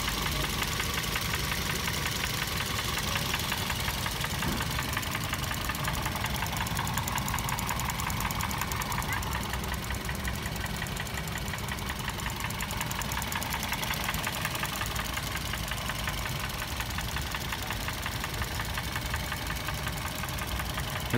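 The 2009 Toyota Vios engine ticks over at idle for a long, even stretch, with a faint, continuous mechanical clatter and rattle close by.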